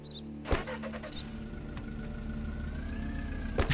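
Car in the video game Contraband Police starting off, a door thud followed by a steady mid-pitched engine hum that rises slightly as it pulls away, ending with another thump.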